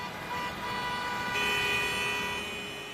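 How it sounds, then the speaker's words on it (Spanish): A car horn sounds in sustained blasts amid road traffic noise on a city street, fairly loud and steady for a couple of seconds. "Hacer sonar la bocina del carro también."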